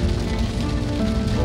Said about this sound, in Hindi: आप लोग देख सकते हो कितनी बारिश हो रही है